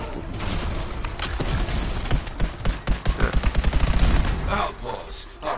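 Auto cannon fire in the video game Anthem, bursts of rapid shots that build into a quick rhythmic volley, loud and close against background game noise.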